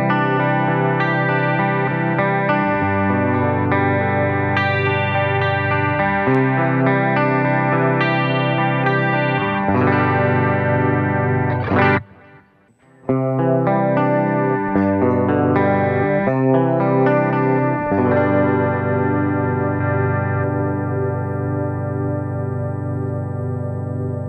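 A clean electric guitar runs through the BOSS GT-1000 CORE Crystal Clean patch 119, ringing chords and arpeggios with a shimmering chorus-like sheen, playing steadily with one brief gap midway and no talking.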